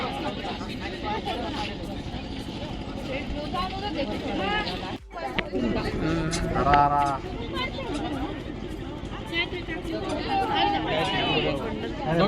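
Crowd chatter at the Saputara sunset point, a steady babble of many voices close around with nearby individual speakers talking over it throughout.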